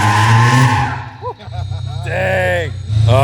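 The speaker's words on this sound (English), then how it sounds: "I love the sound of that motor." A supercharged Lotus 2-Eleven with a K-swap engine accelerates hard, loud engine notes rising in pitch through gear changes, with a person exclaiming over it.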